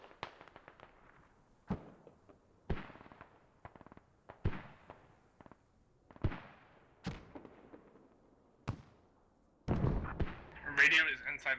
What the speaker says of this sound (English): we're gonna send heavy mortars on that half stressor